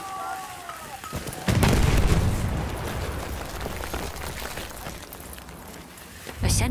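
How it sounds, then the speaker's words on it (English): A grenade goes off in Battlefield 1 gameplay, a single broad boom that erupts partway through and rumbles on amid ongoing battle noise, with a second burst starting near the end. "Throw in a grenade!"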